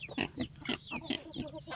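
Pigs grunting and squealing in quick succession, several farm animals close by, the oinks repeating at a fairly steady rhythm over a faint background at a farm in the morning.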